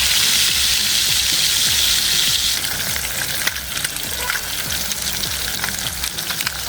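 Pieces of rohu fish fry in hot oil in a pan, with a loud, continuous sizzle and crackle that stays steady throughout and has no talking over it.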